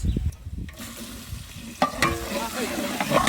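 Onions and whole spices fry in soybean oil in an outdoor village cooking pot, giving a soft crackling sizzle with occasional stirring clatter and scrapes, close by.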